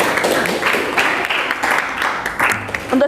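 Classroom of students in an economics lesson clapping together, a brisk, fairly loud burst of many hands with a rhythmic pulse, alongside some voices.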